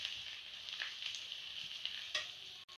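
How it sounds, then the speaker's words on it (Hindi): Turmeric stirred into onions frying in a pan, a soft continuous sizzle with gentle spoon strokes, fairly quiet and with no voice. "ये मैं इस प्याज में हल्दी डाल देती हूँ और इसको मैं इसमें मिक्स कर दूँगी"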